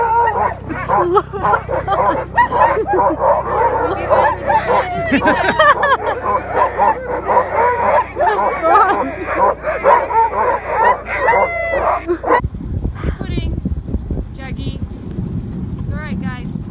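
Sled dogs bark and yip excitedly on a dog-sledding run in Alberta, a dense overlapping chorus of barks and whimpers that stops abruptly near the end, replaced by runner and snow noise; a person speaks briefly.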